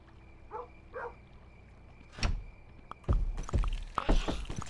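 A dog in the video game Kingdom New Lands gives a few sharp barks and thumps, preceded by quieter in-game tones and faint yelps, the bursts growing louder and more frequent toward the end.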